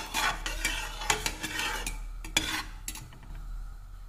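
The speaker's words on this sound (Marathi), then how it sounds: "हलवत राहायचं आहे जोपर्यंत ती मेल्ट होत नाही" Sugar stirred in a hot pan as it melts and browns, a spoon scraping and clinking in quick irregular strokes over a soft steady sizzle, close and fairly loud, fading slightly at the end.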